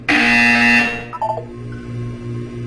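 Loud harsh electronic buzzer from the Portal 2 video game sounds once for nearly a second, then cuts off, leaving quieter mechanical hum and faint tones behind.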